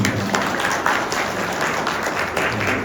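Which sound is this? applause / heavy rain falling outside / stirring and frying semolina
applause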